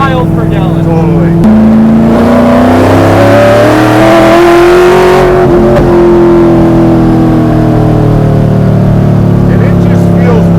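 A 1,100 hp supercharged Buick with a sequential gearbox roars through its side exit exhaust, a loud continuous engine drone rising in pitch as it accelerates, then easing off. A person talks over it.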